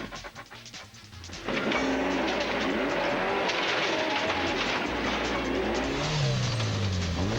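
A rally car spinning off into a ditch, engine revving hard with a sudden rise in loudness, roaring and surging with tire noise and gravel scrabble, close and sustained.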